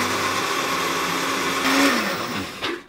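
A blender whirs steadily, blending chocolate paste into a milkshake, with a brief surge in pitch before it winds down and stops at the end.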